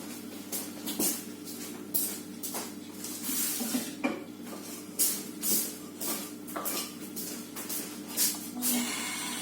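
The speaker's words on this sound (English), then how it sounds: "I'm going to go and get my frying pan with my onions and my celery, and I'm just going to start chucking everything in." Onions and celery hiss and sizzle in a frying pan, with repeated sharp clatters of utensils against the pan over a steady close sizzle and no talking.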